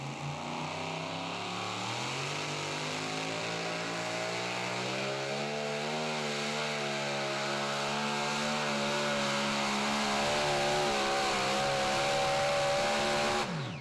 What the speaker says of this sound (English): Boy, you could hear there, Leslie, he waited a while to go to that full throttle mark.